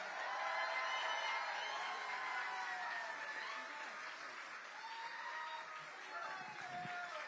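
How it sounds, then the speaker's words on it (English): Rally crowd in Austin, Texas applauding and cheering a state representative's introduction: dense, steady clapping with whoops and voices, loud and sustained throughout. "Let's give it up for him."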